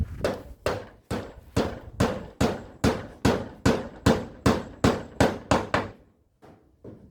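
Nails being hammered while a house is built: about fifteen sharp, evenly spaced blows in steady rhythm, loud and close, then a brief pause and a couple of faint knocks.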